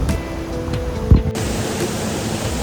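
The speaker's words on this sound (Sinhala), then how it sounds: "මේ යන වතුර පාර තමයි එතනින් පල්ලමට ගිහිල්ලා මියුන්වැල්ල විදියට කඩාගෙන" Miyunu Ella waterfall at Ayagama, Sri Lanka, pours in a steady, dense roar of rushing water that fills the whole scene, broken by one brief dull thump near the middle.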